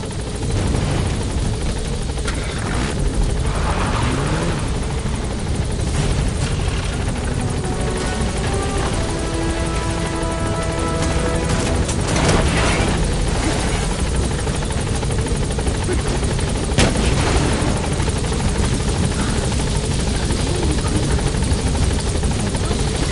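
A helicopter in a PS4 video game thunders loudly and continuously with a dense rotor roar that fills the whole stretch, while a faint voice comes and goes underneath.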